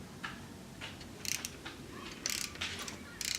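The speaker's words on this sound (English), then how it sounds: "So you're gonna then take your 14 mil and you're gonna spin the rotor," A 14 mm ratchet turning an engine over to spin the rotor while checking shim-under-bucket valve clearance, giving several short bursts of quick metallic clicks, close and clear against a quiet room.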